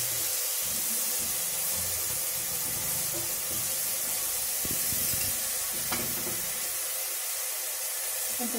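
Onion paste frying in a pan for a fish curry gives off a steady, close, hissing sizzle that holds at an even level throughout, with a few faint stirring clicks.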